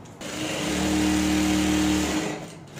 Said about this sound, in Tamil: அதே மாதிரி நம்ம இன்னொரு பக்கமும் இந்த மாதிரி தைக்க போகிறோம்